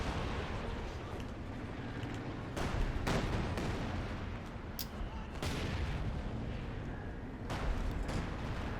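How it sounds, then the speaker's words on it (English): A Katyusha rocket artillery barrage in Company of Heroes 2 on a winter battlefield gives a series of heavy, rough bursts of explosions over a dense roar of battle. "Katusha coming on in,"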